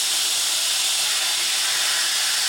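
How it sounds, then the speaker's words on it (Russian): Air rushing back into the sealed chamber of a vacuum packing machine after a bag of dried vobla fish is heat-sealed, a steady broad hiss that holds evenly at moderate loudness from start to finish. "идет спуск воздуха в камеру"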